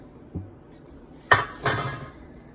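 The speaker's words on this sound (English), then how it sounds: "oats and dump them in there." Oats dumped into a pot of peanut butter mixture for no-bake cookies, a few close metallic clanks and a short scraping rustle from the pot and spoon, with no talk.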